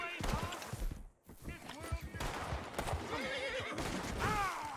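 A horse whinnies loudly in a Wild West video game, with hoofbeats clip-clopping and other game noise around it while someone talks over much of it.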